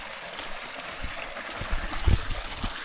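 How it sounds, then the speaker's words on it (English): A freshwater river stream flows in the Amazon rainforest, a steady outdoor rush of water with gurgles and a louder splash near the end. "There's a freshwater river here"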